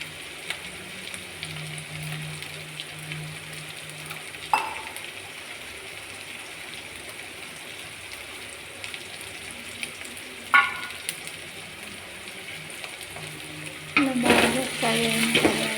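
Onions and tomatoes frying in a pan for egg curry make a steady close sizzle, with occasional clinks and scrapes of stirring, and a livelier burst of sizzling and clatter near the end.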